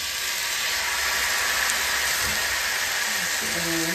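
Rice flour dosa batter poured onto a hot oiled pan sizzles in a loud, steady hiss, with a brief faint voice-like tone near the end.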